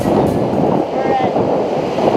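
Cold, strong wind at Lake Tahoe buffeting the microphone, a loud continuous roar with water surf mixed in, steady across the whole moment.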